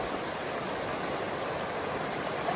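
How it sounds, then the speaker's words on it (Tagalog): Steady broadband rush of a river flowing near a hiking trail on Mt. Mariglem, continuous and fairly loud with no breaks, no voices over it. "Ayan na yung ilog."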